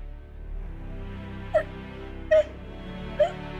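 Three short, sharp hiccups from a child spaced about a second apart, each a brief squeaky catch of breath over a low background hum.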